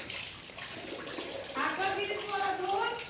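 Water splashes and trickles while someone washes up, faint and close by. A voice chatters over the splashing in the second half.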